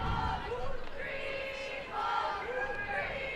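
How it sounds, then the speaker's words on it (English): Cheers and shouts from a softball team's bench during a game, a steady burst of several voices carrying throughout with a brief dip partway through. "the bench is coming alive right now with some cheers"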